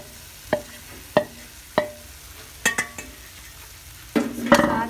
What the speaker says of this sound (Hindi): अब इसको चिकन को अच्छी तरह से फ्राई कर लेंगे।